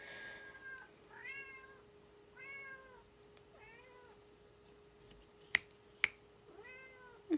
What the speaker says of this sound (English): Sorry, my cat's a loud little bitch